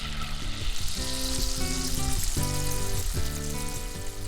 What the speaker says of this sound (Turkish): Ardından bir yemek kaşığı terem yağı tavada güzelce eritiyoruz.